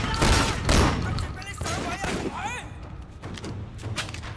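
Gunfire in the video game Sleeping Dogs, with loud bursts of shots and impacts clustered at the start and lighter firing after, while voices talk over the action.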